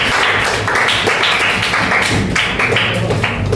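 A class applauds after a group presentation, with dense, steady clapping that fills the room for a few seconds at close range and no talk.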